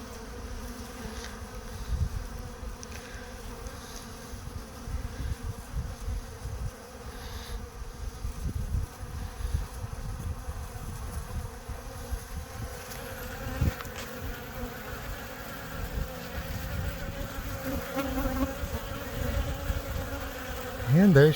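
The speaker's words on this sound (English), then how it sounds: "there's a queen in this little ball of bees" Continuous buzzing of a cluster of bees close by, a steady hum with some louder swells, no voices.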